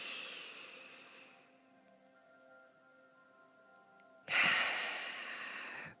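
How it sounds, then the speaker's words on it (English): A slow, deep breath is drawn in during a calm guided meditation, a soft airy inhale near the microphone, followed after a quiet pause by a louder, breathy rush of air. "Let's take a nice deep breath."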